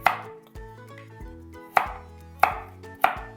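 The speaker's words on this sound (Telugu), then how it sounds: "మిడిల్లో కట్ చేసేసి ఇటు సైడు ఇటు సైడు కట్ చేసేసుకోవాలి సో ఇలా డైమండ్ కట్ అనమాట" A knife chops through carrots in a diamond cut, with four distinct, close knife strikes on the cutting board over a quiet background with faint music.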